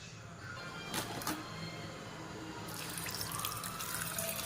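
Tamarind water runs in a steady stream into a pot for tomato rasam, with a continuous watery splashing throughout and a couple of brief sharper clinks partway through.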